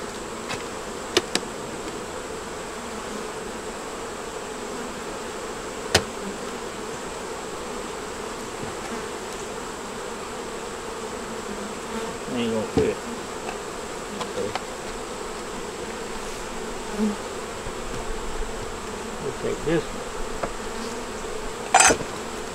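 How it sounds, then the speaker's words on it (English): Honey bees hum in a steady, dense drone around an open hive with eggs and brood, with a few faint clicks and knocks of frames over the buzz. "Bees will take care of them."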